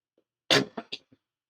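A brief, close throat clearing: one rough burst followed by a couple of shorter, quieter rasps, then silence.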